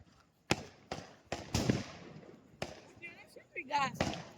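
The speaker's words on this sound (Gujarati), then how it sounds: "હવે જોઈએ 30 શોટ કેવા ધમાકા મચાવે છે." A 30-shot firework cake goes off during Diwali celebrations with a series of sharp, separate bangs spaced unevenly, some echoing. Voices and excited talking follow toward the end.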